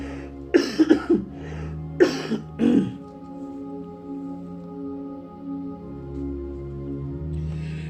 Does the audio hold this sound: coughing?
yes